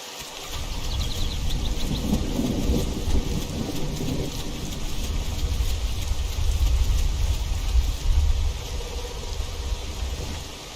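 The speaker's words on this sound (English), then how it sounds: "I don't have to worry about water anymore because it's raining." Steady heavy rainfall with deep rolling thunder in the dinosaur survival game The Isle, a dense continuous wash of rain with low rumbles swelling throughout, no voices.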